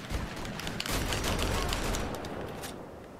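Shotgun fire in the shooter Wolfenstein: The Old Blood comes as a loud, close burst of blasts and crackling impacts that swells through the middle and then tails off. No voices are heard.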